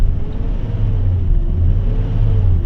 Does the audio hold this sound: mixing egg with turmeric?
no